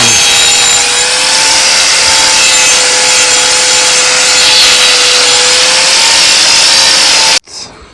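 An angle grinder works on a cow's hoof affected by hoof rot, a loud, steady high-pitched whine with grinding abrasion that runs continuously before stopping abruptly near the end.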